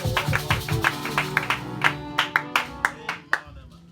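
A church congregation applauds in rhythm to acclaim the Lord during a French-language service: steady, sharp hand claps in a regular beat, fairly close and gradually thinning out, with some voices underneath.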